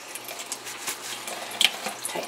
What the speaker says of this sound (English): we're going to let this hang till it stops dripping